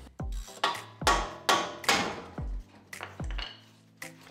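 A big hammer strikes the ball joint on a Toyota T100 spindle, delivering about nine loud, sharp metallic blows with ringing decay at an uneven rhythm, close by and with no voices.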